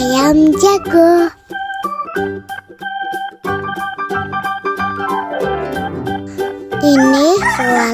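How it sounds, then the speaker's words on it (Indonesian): A rooster's crow opens and closes the stretch, loud and near, with a light tinkling musical tune playing steadily in between and no voices. "Ini suara ayam jago."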